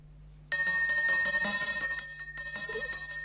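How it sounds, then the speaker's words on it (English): A new front gate bell rings with a bright, sustained metallic tone that starts abruptly, holds steady, then dips briefly and rings on, close and clear with no voices. "now that Mrs. Frog's rung our bell"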